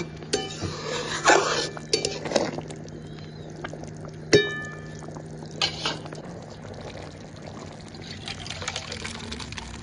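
A cooking pot being lifted off a stove after a chana paneer masala finishes cooking, with faint clinks and scrapes of metal on metal, a soft hum of the burner and a few sharper knocks, fairly quiet.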